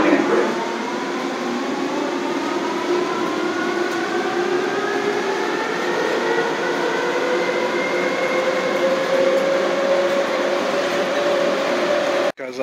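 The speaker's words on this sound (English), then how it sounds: "this is the tram to the gates. This tram is going to the T-gates" An electric airport tram to the terminal gates runs with a rising motor whine and steady rumble, cutting off abruptly at the end.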